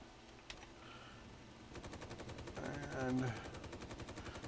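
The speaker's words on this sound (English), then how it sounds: "apparently we are being shot at" Rapid automatic gunfire in Space Engineers rattles as a steady series of quick shots, fairly faint behind engine hum and game sounds, with a voice briefly speaking.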